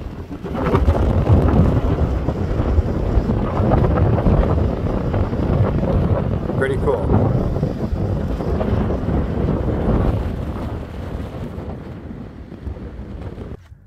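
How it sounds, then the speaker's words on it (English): Heavy wind buffeting the microphone outdoors in Newfoundland, a loud continuous low rumble throughout, with a brief spoken remark partway through. "Very windy out here."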